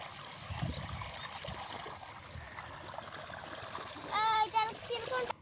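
Water pumped from a motor flows into a village vegetable field sown with cauliflower and cabbage seed, making a steady, close rushing trickle with splashy bursts toward the end, while a person talks over it.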